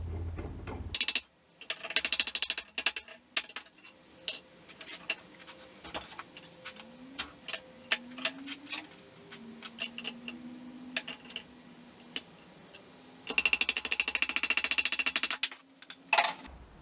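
Metal tapped and beaten around a socket to bend it while prototyping a custom skateboard holder for a 1967 Volkswagen Bug: many quick, sharp light taps in irregular runs, with a few louder broadband bursts of handling noise.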